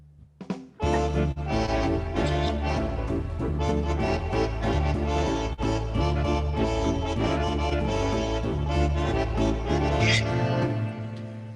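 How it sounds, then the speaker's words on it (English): A keyboard auto-accompaniment rhythm of drums, strummed guitar and a section of saxophones plays loud and busy for about eleven seconds, entering after a brief quiet start and holding a steady groove. "when you listen to that, there's drums, a strummer on the guitar, a bunch of saxophones"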